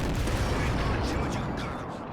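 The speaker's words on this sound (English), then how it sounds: "We still got that artillery gun firing." An artillery gun fires in the tactical war game Men of War: Assault Squad 2, its heavy booming shots dense and continuous at close range within a loud battlefield din.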